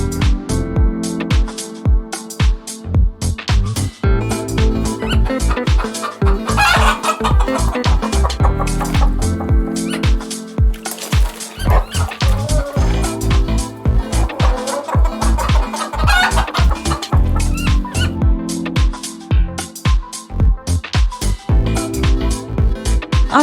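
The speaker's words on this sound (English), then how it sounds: "Hens are farm birds." Farm hens cluck in rapid, irregular bursts close by, with a rooster crowing twice in longer drawn-out calls, the busy barnyard chatter loud and continuous with no voices.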